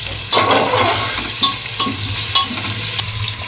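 Minced garlic, onion and three green chillies hit hot oil with potatoes, giving a loud, close sizzle with scattered spoon clinks and scrapes against the pan while stirring, and no one speaking.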